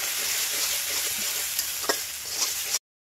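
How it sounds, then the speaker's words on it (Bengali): A ground paste of mustard, garlic and green chili fries in hot oil with a steady, bright sizzle for about three seconds before cutting off abruptly. "এই সব মশলাগুলো আমি তেলের মধ্যে একটু ভেজে নিলাম।"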